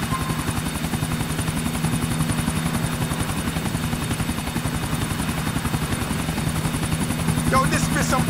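Helicopter in Grand Theft Auto IV: a steady, loud rotor thrum with fast regular blade chop and a low engine drone throughout, with in-game voices talking faintly over it.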